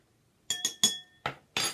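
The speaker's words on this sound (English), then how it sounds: "Second, we will mix these together with our spoon." A spoon stirs half-and-half in a glass for a pink Starburst cocktail, giving five sharp, bright clinks against the glass in an uneven rhythm, close and clear with no talk.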